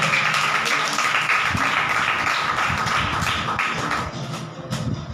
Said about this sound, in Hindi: एक बार जोरदार ताली बजाते लाइव देखने वाले हो।